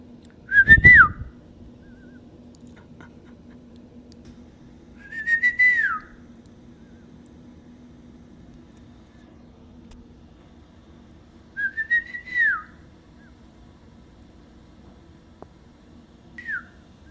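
Emu chick chirping from inside its egg on a farm: four short rising-falling whistled peeps spaced a few seconds apart, clear and close over a faint steady background hum.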